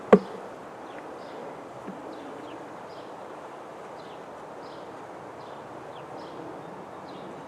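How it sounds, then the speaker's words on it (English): Honey bees buzz around an open hive during a quick inspection, individual bees zipping past repeatedly over a low steady hum, with a sharp knock at the start. "You got a bee that just went inside your glove, Don."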